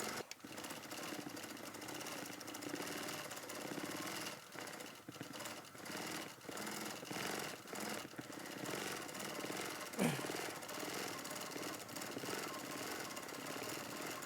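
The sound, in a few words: quilting machine stitching freehand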